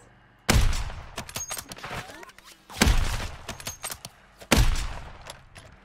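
Gunfire in Call of Duty: Warzone, three loud bursts of rapid shots that each decay into echoing tails and scattered pops between them.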